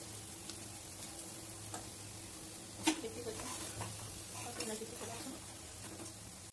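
A south Indian evening snack fries in a pan with steady oil sizzle and crackle, plus a sharp utensil clink near the middle and light stirring scrapes throughout.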